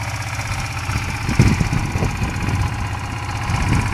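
A Yamaha Virago 125 motorcycle with a cutting-out fault idles with a steady, slightly uneven mechanical throb, heard close up and alone, with a rough patch partway through.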